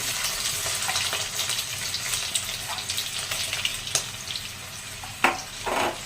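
Onion drops into hot oil with a cumin tempering for a Bhogi vegetable dish, a continuous close frying hiss with scattered clinks and scrapes of a utensil in the pan, and no talking.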